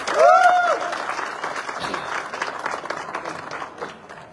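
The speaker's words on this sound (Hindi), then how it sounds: "जोरदार तालियां" Audience applause fills a hall at a direct-selling company event honoring a new car achiever, loud steady clapping from a crowd with a short whistle near the start, then tapering slightly.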